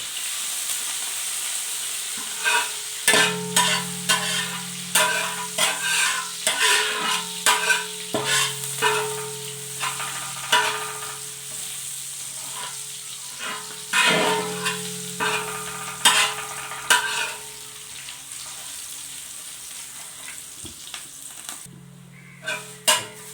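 Curry leaves fry in hot oil in a pan while a spoon stirs them, giving a steady sizzle broken by repeated sharp scraping strokes that come close and fairly loud, with no talking.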